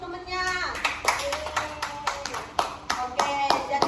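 A group of children claps in an irregular, sharp rhythm for a classmate in a dental health lesson, with individual slaps standing out and a voice talking over part of it.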